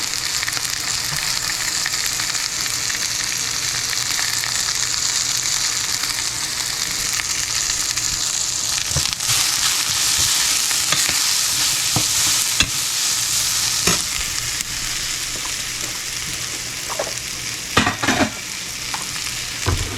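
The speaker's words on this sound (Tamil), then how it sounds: "உருளைக்கிழங்கு போட்டாச்சு உப்பும் போட்டாச்சு கொஞ்சம் பொறிக்க விடுவோம்" Mashed boiled potato with salt frying in a pan, a steady close sizzle throughout with occasional stirring scrapes and clinks toward the end, no voices.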